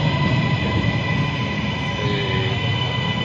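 A train passes behind the speaker, producing a continuous rumbling roar with a steady mechanical hum that stays fairly close and loud for the whole stretch.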